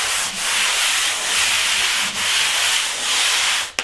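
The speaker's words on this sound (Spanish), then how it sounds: "si usted tiene una pared muy rugosa, le puede dar otra pasada con el lijador" A sander works over a rough painted interior wall, a loud steady rasping sweep that swells and dips in rhythmic strokes before a sharp knock at the end.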